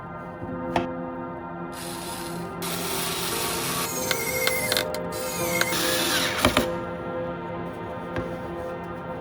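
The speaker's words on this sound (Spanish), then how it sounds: "Atornillaremos este suplemento de madera con estos dos tornillos." Two screws being driven into a wooden block with a power tool while a mini refrigerator is built, steady mechanical whirring with short bursts, ratcheting clicks and a few sharp knocks, close and without speech.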